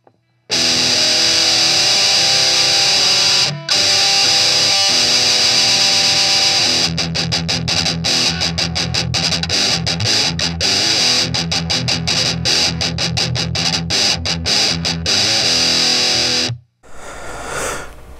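Electric guitar run through a Boss Metal Zone distortion pedal into a Peavey Rage 158 amp: harsh, buzzy sustained chords, then a long stretch of rapid choppy palm-muted chugging, loud and close with no talking.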